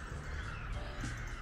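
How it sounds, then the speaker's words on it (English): Crows caw faintly outdoors on a seaside park stroll in Bognor, harsh calls carrying from a distance over a constant wind and background hum. "Listen to those crows."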